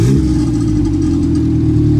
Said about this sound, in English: we'll just do some quick stabs of the throttle